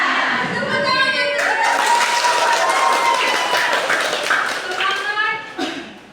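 A class claps hands in a brisk rush of taps and applause, the clapping layered under voices chanting and speaking throughout.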